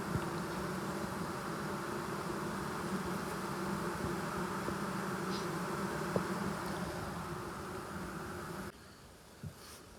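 Bees droning steadily at an open beehive during a formic acid mite treatment, a dense continuous hum at close range that drops away sharply near the end, leaving a quieter residual buzz.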